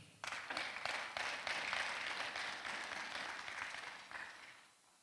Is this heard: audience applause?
yes